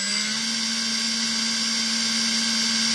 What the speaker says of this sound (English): 12 volt power supply into a servo tester is running the motor.